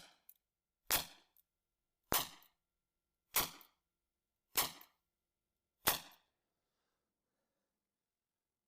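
A 6mm Flobert gun fired five times at even intervals of a little over a second, each shot a sharp, dry crack with a short decay, close and clear against silence.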